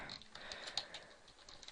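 Someone types on a computer keyboard while setting up a PHP file, with faint, quick, irregular key clicks close by.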